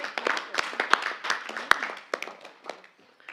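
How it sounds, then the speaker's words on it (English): A small group claps at a council meeting, loose and uneven individual hand claps rather than a full ovation, moderately close and fairly brief. "And then we can give them a clap."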